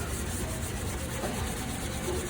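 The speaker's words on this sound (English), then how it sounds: "When you get into the corner, just kind of rock the pressure to one side into the corner and it'll scrub it there." Abrasive scrubbing pad working a surface into a corner, giving a steady, close, continuous gritty rubbing with no pauses and no voices.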